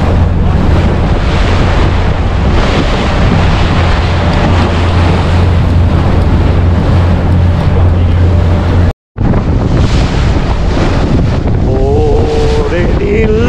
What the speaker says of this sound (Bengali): দেখেন এখন প্রায় 4-5 ফিট উঁচু ঢেউ, তার মধ্যে আমাদের নৌকা যাচ্ছে